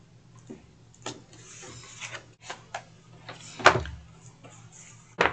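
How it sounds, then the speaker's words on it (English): A blade cuts through card to trim off excess, giving soft scraping strokes and sharp clicks at irregular intervals over a low steady hum, close and fairly quiet with no speech. "I am just cutting through to remove the excess."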